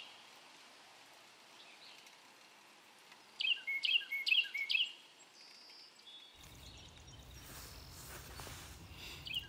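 Birds sing at an allotment, a few bright chirping phrases rising clearly over a quiet background. A rain-like hiss follows as the song fades.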